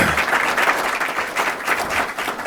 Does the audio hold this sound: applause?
yes